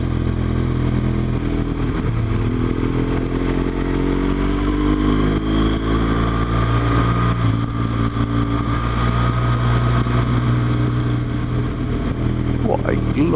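BMW R1200GS motorcycle engine labouring up the steep Kirkstone Pass in low gear, a steady loud droning rumble throughout with wind noise and a voice talking over it.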